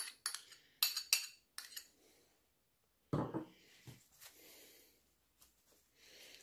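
A spoon clinks and scrapes against a bowl while mixing mayonnaise, yogurt and coconut oil, giving a few sharp taps followed by softer stirring, close and quiet, with no talk.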